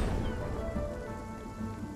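Steady heavy rainfall from the video game Spiritfarer hisses continuously, with a low rumbling undertone like distant thunder, dense and fairly loud throughout.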